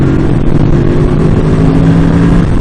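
A 2014 Yamaha R1 sport motorcycle engine holds a loud, steady deep rumble, droning close and unbroken without talk.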